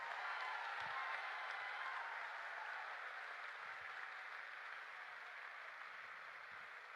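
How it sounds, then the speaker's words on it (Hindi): A large audience applauding loudly in honour of their parents, a dense steady roar of clapping that holds at an even level throughout, somewhat distant and muffled. "एक बार अपने अपने मां बाप के लिए जोर से तालियां बजाओ"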